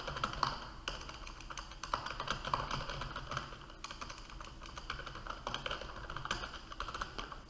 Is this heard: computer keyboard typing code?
yes